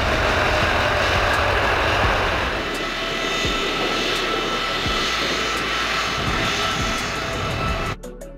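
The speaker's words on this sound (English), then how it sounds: "Beluga Airbus a specialized cargo aircraft developed by Airbus to transport oversized air cargo, particularly aircraft components." Airbus Beluga oversized cargo aircraft with jet engines, a steady loud roar and broadband rumble holding throughout, easing slightly partway before an abrupt change near the end.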